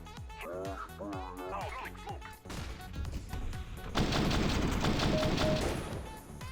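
Rapid full-auto rifle fire in the video game CS:GO erupts in a sustained, dense burst after some distant chirpy sounds and scattered shots, loud and continuous until the end.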